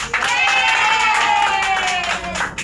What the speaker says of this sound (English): I want to give everyone a round of applause